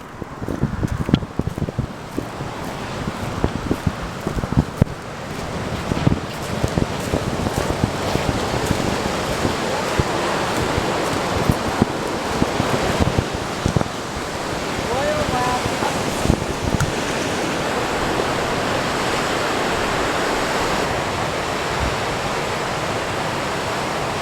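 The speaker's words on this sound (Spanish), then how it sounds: "Miren qué cerca está el mar." Ocean surf rolls in near the beach at a surf competition, a loud continuous rush of breaking waves and wind-blown noise with gusty buffeting, and a voice speaks faintly in places.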